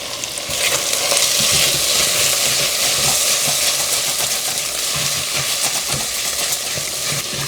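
A sauce for schnitzel fries loudly in a pan with a continuous bright sizzle and crackle, stirred now and then, close and steady throughout, with no voices.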